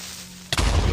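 Minecraft creeper explosion after quiet game ambience: a sudden loud blast about halfway through, followed by a dense, rumbling roar that lasts to the end.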